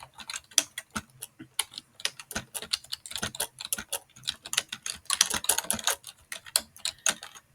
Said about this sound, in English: I'm just gonna type something in there for that and click add